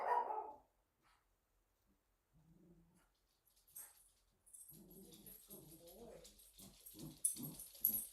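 Dogs give a short bark, then soft whimpers and whines that build into a run of yips and barks toward the end, close by in a quiet room with no talk.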